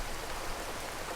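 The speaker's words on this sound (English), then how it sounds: "It's the sound of rain." Rain falls in a steady, dense hiss of broadband noise, soft and even throughout a brief stretch with no other sounds.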